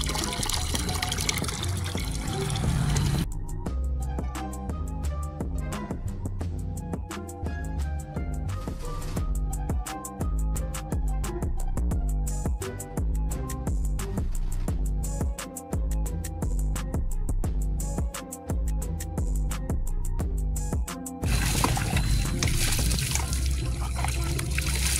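Water pouring during bathing beside a hand pump and basin, a steady splashing trickle with rhythmic pours running throughout, loud and close.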